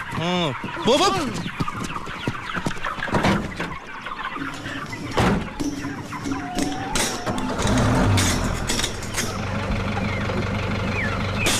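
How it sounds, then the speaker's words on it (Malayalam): Chickens cluck and squawk loudly inside a vehicle at a checkpoint in a film scene, repeated calls over an engine rumble with people talking. "ഇതിൽ കോഴി അല്ലാതെ വേറെ ഒന്നുമില്ല സാർ"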